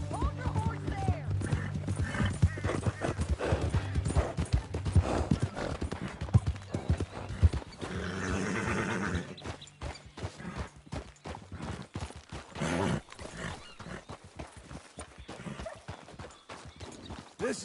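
Horse hooves clip-clop steadily in the Western video game Red Dead Redemption 2, the animal walking and at one point whinnying, with voices talking over the rhythmic hoofbeats and ambient background.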